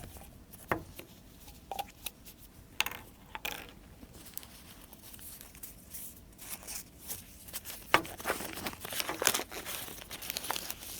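Oil paper wrapping around an injector valve assembly part (Bosch F00RJ00399) crinkles and rustles in irregular bursts, with sharper crackles near the end, fairly close and moderately loud, with no talking.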